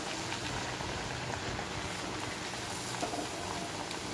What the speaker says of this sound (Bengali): আমার তেলটা এদিকে একটু আগেই বসিয়েছি, গরম হয়ে গেছে। লুচিগুলো দিয়ে দিচ্ছি।